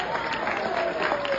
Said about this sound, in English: I know you're applauding because you like that song